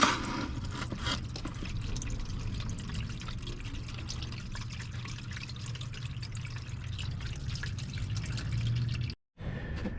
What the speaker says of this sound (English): Just drain it into a pan.